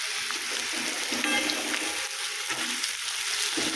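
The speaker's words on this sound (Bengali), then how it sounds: "বিনসগুলোকে সাদা তেলে ভেজে নিচ্ছি এবার গাজরগুলোকেও ভেজে নেব" Green beans and carrots fry in white oil with a dense, close sizzle that stays steady throughout, with faint scraping from stirring.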